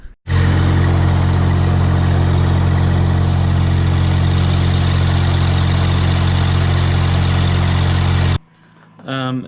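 A Kanga loader's engine runs with a rebuilt catalytic converter, giving a loud, steady, close-up drone for about eight seconds before cutting off abruptly into near quiet.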